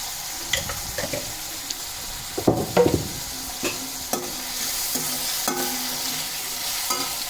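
Sliced radish frying in a pan with turmeric, a steady sizzle running throughout while a utensil stirs and scrapes in a few louder bursts near the middle, close and alone.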